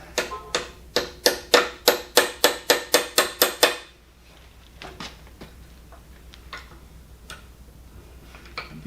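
Hammering on an old Cincinnati D1 Toolmaster milling machine, about a dozen sharp metallic blows in a quick even rhythm, then quieter scattered taps and handling noises.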